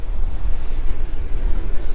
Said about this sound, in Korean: 파도가 되게 예술적으로 친다.